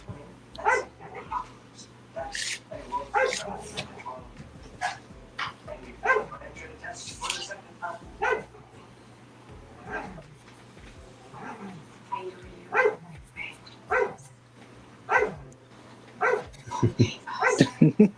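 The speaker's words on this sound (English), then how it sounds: "These silly puppies, man." Puppies bark and yip in short, excited bursts throughout, near and fairly loud, with whimpers between barks and people talking underneath.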